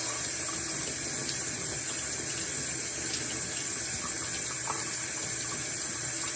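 A kitchen faucet runs in a steady, close, even stream while a glass jar is rinsed under it, continuous water noise throughout with no talking.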